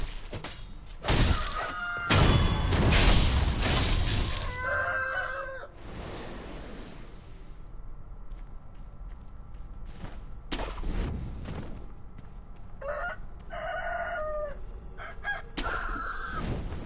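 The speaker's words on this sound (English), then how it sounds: "So many angry chickens." A rooster crows and chickens cluck in the video game Sekiro, with several loud crowing calls and clucks among thuds and crashing impacts, a dense, busy mix with no talk over it.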